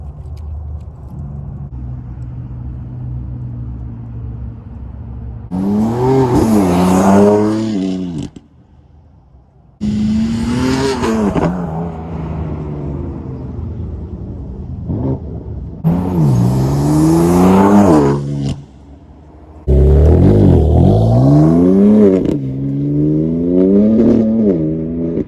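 BMW M4 with catless downpipes on the stock exhaust makes several roadside pass-bys, each a loud rising roar of hard acceleration that swells close and fades off, with brief quiet gaps between runs.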